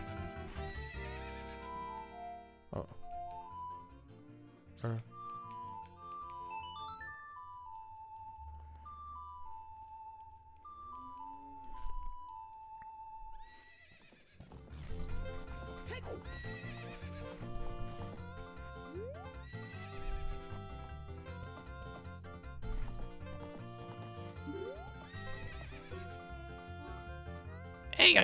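A horse whinnies and hooves clip-clop amid bright synthesized game music at the ranch in The Legend of Zelda: Ocarina of Time, with a brief voice exclamation; the music drops out midway before returning fuller.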